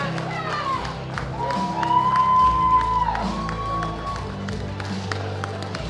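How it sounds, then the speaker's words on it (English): Audience at the World Bench Press Championships 2016 claps and cheers with scattered whoops and shouts, a fairly loud sustained crowd ovation over music, with a voice over a loudspeaker partly audible. "Big round of applause, folks, as our athletes get escorted off of the platform."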